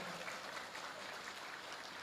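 Quiet, distant applause from an audience, a soft steady patter of many hands clapping with no talk over it.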